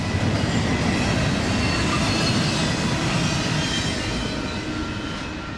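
Union Pacific westbound priority freight train rolling past close by, a loud continuous roar and rumble of wheels on rail with faint squeal, easing slightly toward the end.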